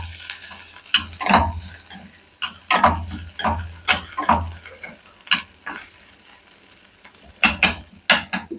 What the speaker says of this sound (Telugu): ఇంకేమో దొండకాయలు వేగుతున్నాయండి